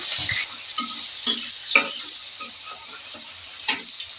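Steady sizzling of chopped onions frying in hot oil, broken by several sharp scraping clicks of a utensil stirring the pan.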